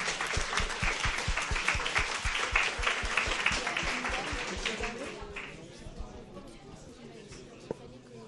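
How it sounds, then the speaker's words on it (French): Sustained audience applause at a televised French debate on education and equal opportunity, many hands clapping loudly for about five seconds before fading into quieter crowd murmur. "On peut quand même l'applaudir."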